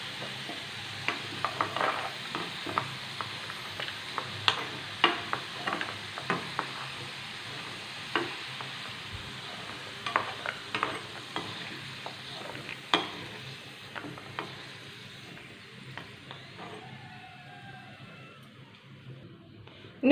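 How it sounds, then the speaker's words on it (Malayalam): Potatoes sizzle and fry in a pan for a potato omelet, with a steady frying hiss and repeated scraping and clinking as the pieces are stirred, fading slightly toward the end. "ഇതാ നമ്മുടെ ഉരുളൻകിഴങ്ങ് ഇവിടെ ഫ്രൈ ആയി വന്നിട്ടുണ്ട്."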